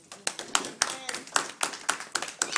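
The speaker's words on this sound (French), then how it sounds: "Est-ce qu'on peut acclamer le Seigneur un peu?" A church congregation clapping together to acclaim the Lord, a steady rhythmic pattern of sharp hand claps close by, with some voices mixed in.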